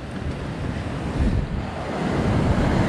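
Ocean waves surging against a rocky shore during rock fishing, a loud continuous wash of surf and wind noise that builds toward the end, with no talking.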